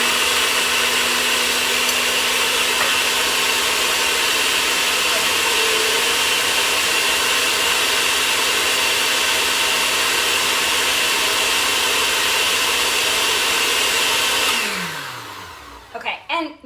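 A blender grinds a strawberry smoothie with a loud, steady whir that runs for about fifteen seconds, then winds down and stops, followed by a few clunks. No voices are heard over it.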